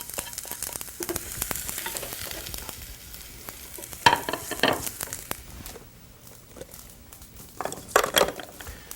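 Ginger, fresh chilies and asafoetida sizzling in hot oil while being stirred, a steady crackling fry broken by louder bursts of spattering and scraping around the pan, no voices.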